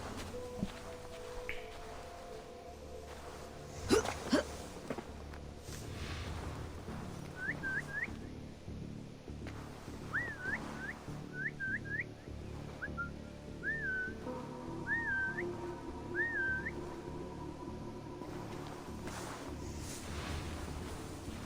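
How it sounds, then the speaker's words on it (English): A character in Assassin's Creed Valhalla whistles to lure enemies, giving a series of short rising whistles, several in quick pairs, over a steady ambient game soundscape with occasional footsteps. "let's see who we can entice over with our irritating whistles"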